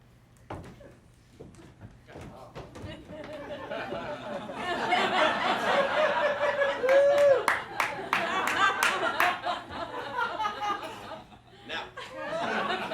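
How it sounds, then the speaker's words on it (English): Theater audience clapping and laughing at a stage show, a crowd response that builds from scattered chuckles into louder mixed applause and laughter with chatter, sharp individual claps standing out midway. "judging by your applause"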